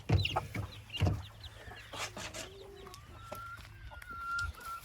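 Brahma chickens at a poultry breeding pen, clucking and squawking up close, with several short calls and a steady low hum behind them, no talking.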